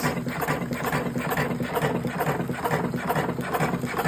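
An electric cigarette rolling machine driven by a servo motor runs nearby, giving off a fast, even mechanical whirring and rattling patter that holds steady throughout with no talk.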